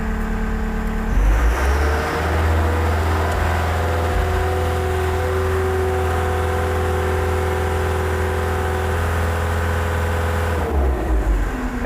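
A Wacker Neuson skid steer loader's engine rises to maximum RPM and holds there for about ten seconds as the machine creeps forward, a loud, steady, close mechanical drone before it drops back at the end.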